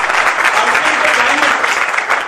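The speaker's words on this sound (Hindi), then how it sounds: "एक बार जोरदार तालियां चला।" An audience at a motivational business seminar breaks into loud, continuous clapping, a dense even roar of hands close by with some voices mixed in throughout.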